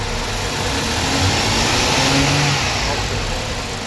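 A Toyota Mark 2 engine with a fuel injector fault revs under light throttle, a steady, close, mid-pitched drone that swells slightly and eases off, loud and even with no voices.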